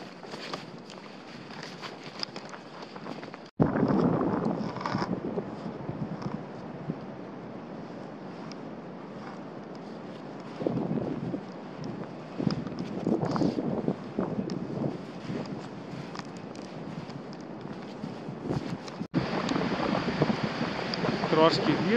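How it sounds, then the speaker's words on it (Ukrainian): Wind gusting across a snowy mountain ridge in the Carpathians in winter, a steady close rushing buffet on the microphone with louder surges, heard without speech. "Трошки вітру, без нього ніяк."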